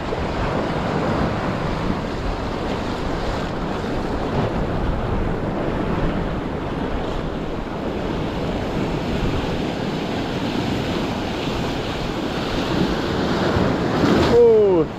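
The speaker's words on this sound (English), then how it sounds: "there's a nice little roll behind the rock that I'll just cast to" Tide washing over a rock on the coast during bass lure fishing, a continuous roar of surf and wind buffeting the microphone, swelling louder near the end.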